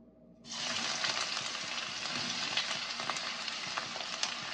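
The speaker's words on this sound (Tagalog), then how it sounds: "Ang unahon nato gisa ang atong sibuyas." Onions hit hot sesame oil in a pan for a Korean glass noodle japchae, and a sudden loud sizzle starts and holds as steady crackling frying, close up and with no voices.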